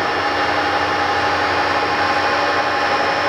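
A Moriseiki MS-1250 engine lathe running at 510 RPM gives off a steady, even mechanical hum and whir with broadband hiss, constant and unchanging throughout with no talking.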